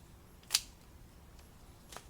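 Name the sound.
cutting and pruning acanthus plant leaves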